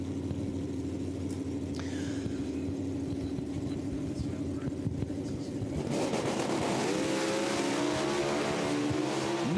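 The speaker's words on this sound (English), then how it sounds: "2020 Copo Camaro, supercharged, 350 cubic inches in that Copo." Supercharged 350-cubic-inch 2020 COPO Camaro at a drag strip, a distant rumble that swells into a loud roaring engine surge partway through.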